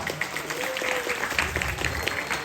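A crowd claps steadily, with dense, continuous applause at moderate distance and a voice faintly audible beneath.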